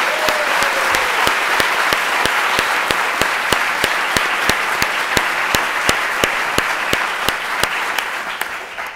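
Audience applause fills a 2014 Brockton budget hearing, a steady wash of many hands clapping that holds evenly throughout, with sharp rhythmic claps standing out in a regular beat over the crowd.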